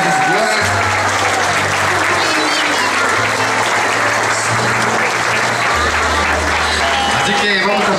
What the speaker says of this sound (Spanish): brindemos nuevamente esos aplausos que ellos se merecen